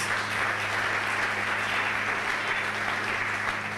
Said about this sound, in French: Est-ce que nous pouvons acclamer pour votre présence?